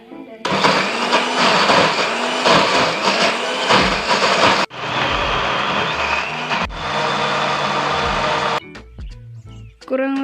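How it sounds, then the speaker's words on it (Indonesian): An electric blender grinds fried bird's eye and curly red chili peppers for sambal, roaring loudly up close with several starts and stops, then the motor cuts out. "kurang lebih setelah di blender selama 30 detik, hasilnya seperti ini"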